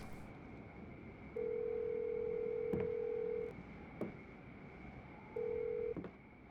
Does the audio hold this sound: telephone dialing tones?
yes